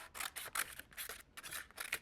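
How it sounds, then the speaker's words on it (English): Scissors snip through a paper plate in a series of quick, close, crisp cuts, roughly ten short rasping strokes in a steady rhythm for a pine cone craft, quiet and alone without talk. "just take your scissors and cut your paper plate"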